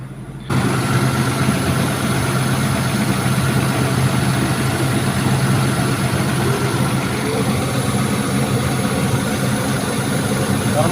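A Volvo EC210BLC excavator engine starts after a brief silence, then idles steadily with a loud, even diesel rumble.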